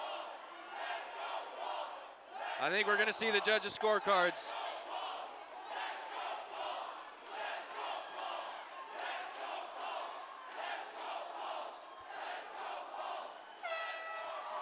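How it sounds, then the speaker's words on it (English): Spectators at an amateur 145-pound MMA bout roar and shout continuously, with a sharp burst of cheering partway through, while a commentator talks over the noise. "you can hear the crowd"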